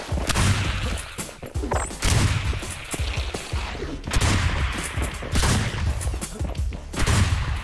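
Video game gunfire crackles in dense, loud, close volleys that run almost without a break, rising and easing in waves.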